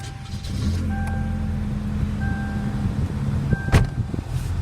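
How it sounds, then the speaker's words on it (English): A 1994 Toyota Corolla starting from cold after sitting unused all day: a steady low engine rumble with a few thin electronic tones, then a sharp burst as the engine catches. "I got your request here to send you an engine cold start on our 94 Toyota Corolla"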